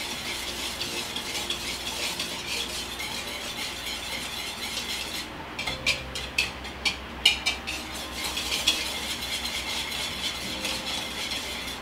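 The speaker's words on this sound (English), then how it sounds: "And we're just going to whisk that together until it's combined." Cocoa powder and flour being whisked together in a bowl, a steady scraping and rattling that runs throughout, with a few louder metallic ticks near the middle.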